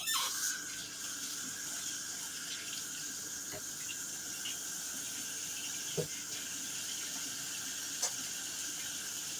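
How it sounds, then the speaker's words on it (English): A kitchen tap runs steadily while hands are washed, giving a constant close splashing hiss with a few faint clicks and knocks, during home cooking of traditional dirty rice. "Let me wash my hands."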